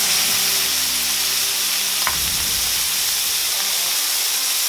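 White wine poured into Brussels sprouts sautéing in a hot pan over high heat, a loud, continuous sizzle and steamy hiss, close, with a brief clank as the liquid goes in.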